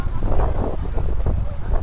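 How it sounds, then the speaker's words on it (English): Strong wind rumbles heavily against the microphone in low, uneven gusts outdoors in Baku, Azerbaijan, with a voice faintly mixed in. "It's just really, really windy."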